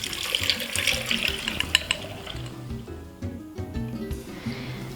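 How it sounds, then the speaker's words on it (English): Custard mixture for crème caramel pouring through a strainer into a jug, a steady close trickle of liquid running throughout with small splashy fluctuations. "I'm going to strain this mixture just to ensure that we get a smooth custard"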